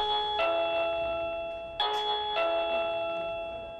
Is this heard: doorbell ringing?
yes